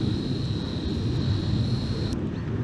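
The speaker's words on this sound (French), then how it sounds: "je vais un peu zoomer donc il y aura du bruit" Camera zoom motor whining while filming mountain scenery during an electric mountain bike ride on a Cube e-bike: a thin, steady high whine over wind rumble that cuts off abruptly near the end.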